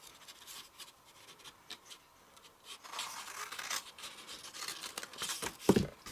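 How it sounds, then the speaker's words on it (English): Long pair of scissors cutting diagonally through fabric, giving a run of soft scratchy snips that grows louder and closer toward the end, with no talking. "I'm going to do mine by eye with a long pair of scissors"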